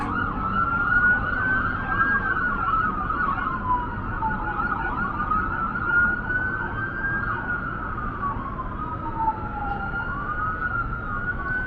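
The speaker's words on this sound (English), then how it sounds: "See, ambulance, fire truck." Wailing sirens from an ambulance and fire truck sweep up and down over Las Vegas road noise, sustained throughout and fairly close, without talk.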